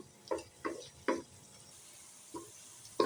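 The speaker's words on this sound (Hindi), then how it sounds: "हल्की आंच पे प्याज को आपने ब्राउन करना है।" Onions browning in a pan over a low flame for chana dal palak, stirred in several soft scraping bursts at uneven intervals, with quiet sizzling between the strokes and no voices.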